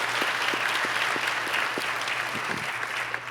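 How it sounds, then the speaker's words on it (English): A congregation applauds a choir and band at a temple Hanukkah Shabbat service, many hands clapping in a steady, fairly loud wash with a low steady hum underneath. "Give them a round of applause."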